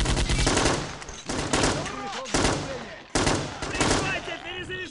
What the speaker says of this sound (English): Machine gun opening up.